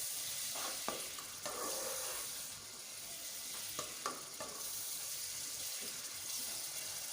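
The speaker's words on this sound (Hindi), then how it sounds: "दही डाल के इसको अच्छे से भून लेंगे" Colocasia leaf mixture being stirred and fried with yogurt in a pan, giving a steady sizzle with a few scraping stirs throughout and no voices.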